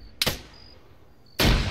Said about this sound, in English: An explosion went off in the distance.